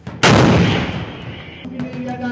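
A K9 Vajra howitzer fires during a military demonstration: a single sudden, very loud boom that rolls out into a long, slowly fading rumble and echo.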